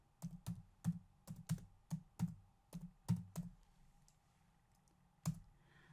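Keys on a computer keyboard are tapped in a quick, irregular run of soft clicks as text is entered, then a pause and one last keystroke, all quiet and close with no voices.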